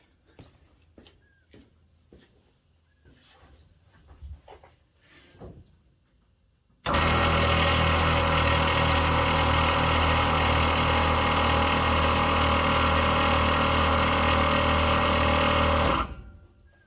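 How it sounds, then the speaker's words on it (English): Air-suspension compressors on a 1964 Chevrolet Impala kick on abruptly after faint shuffling and clicks, running as a loud, steady mechanical buzz for about nine seconds before cutting off. "The compressors are functioning"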